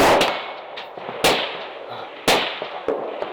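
Big guns fire at an outdoor shooting range with steel targets: three loud, sharp reports about a second apart with ringing decay, plus fainter distant shots between, no talk.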